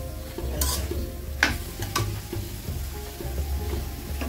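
Vegetables sauté and get stirred in a hot pan alongside prawns for a fish curry, a steady sizzle broken by sharp scrapes and clinks of the spatula, close and without speech.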